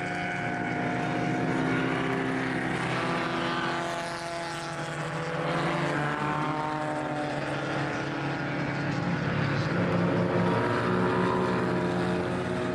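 Formula Junior historic racing cars, including an Elva, head out for practice at Mallory Park on a dry, sunny day; a dense, steady engine roar fills the whole clip, several cars droning together with rising and falling pitch.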